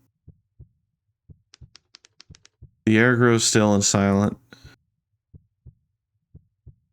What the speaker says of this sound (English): Why do I hear a heartbeat? I don't like this. It's getting faster.